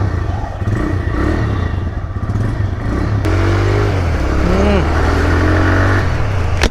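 A TVS Raider motorcycle engine runs steadily up close on a test ride, its pitch rising as it revs and accelerates partway through.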